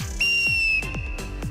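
A referee-style whistle during an exercise routine, one long shrill blast followed by thumping rhythmic steps or beats, loud and close, with no talk.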